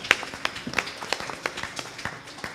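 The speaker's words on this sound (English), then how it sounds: "give them a wonderful round of applause" Scattered applause from a small audience at a temple yajna gathering welcoming newcomers, a thin run of separate claps at moderate distance, uneven and light rather than a full ovation.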